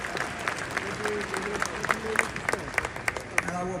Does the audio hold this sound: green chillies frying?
no